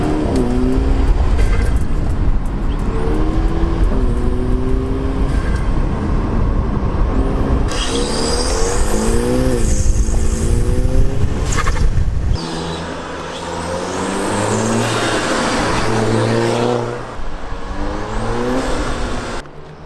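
An Audi B8 A4 turbo engine fitted with a diverter valve spacer revs hard and repeatedly, climbing and dropping in pitch between blips, with a whooshing turbo flutter on let-off and a brief quieter stretch partway through.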